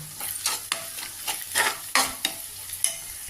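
Onions fry in a pan for a fish curry, a continuous sizzle broken by repeated scraping stirs that rise and fall in loudness, close by with no talking.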